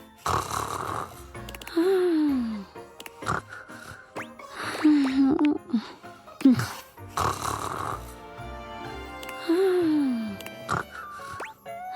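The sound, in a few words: snoring sounds in the video game Date Everything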